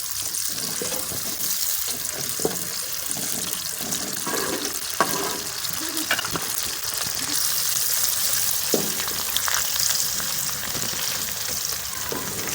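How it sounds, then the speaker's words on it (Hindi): Chopped onions frying in oil in a pan, a constant dense hiss and crackle that stays even throughout, close and fairly loud with small pops and no voices. "प्याज हमने ऑयल में डाल दिए,"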